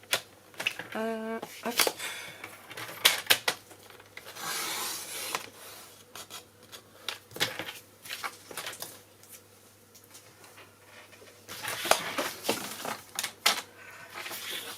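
Scissors cutting paper for a Stamperia Alchemy scrapbook album, heard as repeated short crisp snips and rustling paper handling, close and intermittent, with someone speaking French between the cuts.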